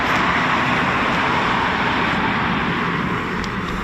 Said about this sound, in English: there's our EJ200 engines